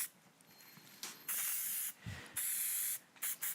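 Hairspray sprays onto styled hair in several hissing bursts, close and bright, separated by short pauses.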